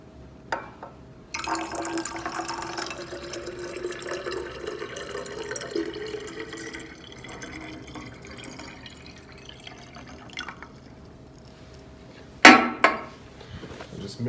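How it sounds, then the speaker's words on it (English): Alkaline water is poured into a model stomach, a soft trickling, splashing pour that runs steadily for several seconds, then fades before a brief louder splash and clatter near the end. "I am going to add in what would be about a half a mil or 375 milliliters, of alkaline water"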